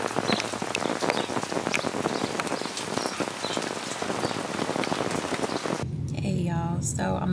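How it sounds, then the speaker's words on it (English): Heavy rain pours down close by, a dense crackling patter of drops on a hard surface, before the downpour cuts away near the end. "it just started raining again"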